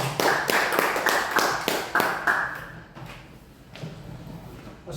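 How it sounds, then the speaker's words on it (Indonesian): At a health and wellness business meeting in Pekanbaru, an audience breaks into a burst of clapping that thins out after a few seconds, leaving faint room noise and shuffling. "Tepuk tangan dong buat Bapaknya."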